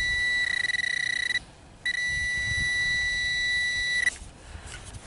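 Metal detector beeping over a buried copper bullet fragment, a steady high tone that cuts out briefly, resumes, then stops, with soft rustling of digging underneath.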